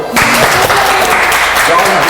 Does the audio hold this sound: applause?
yes